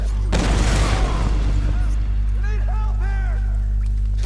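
A red explosive barrel blowing up in Tomb Raider, a loud deep boom that rolls off into rumble over a steady low hum, followed by voices and a few bright game tones.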